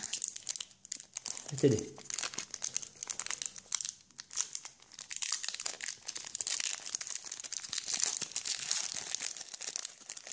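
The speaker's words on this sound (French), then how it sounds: "Ah, il ne peut pas sortir, c'est le blister. Ah, j'arrive pas à l'ouvrir." Crinkling and tearing of a plastic Pokémon card blister pack being pulled open, close and fidgety with repeated rustling crackles, while a person speaks briefly over it.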